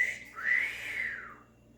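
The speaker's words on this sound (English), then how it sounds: "That's my whistle. It's pretty lame, huh?" A person whistles a single smooth, rising-then-falling tone lasting about a second, close and clear with no talking, next to a pet bird.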